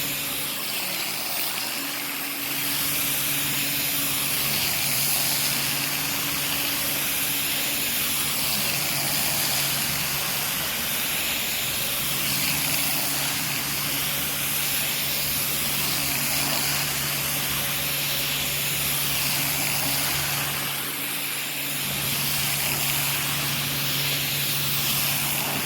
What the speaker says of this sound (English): So that's good old-fashioned steam here.